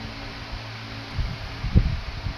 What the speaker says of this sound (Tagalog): Hangin-hangin at tubang sa electric fan.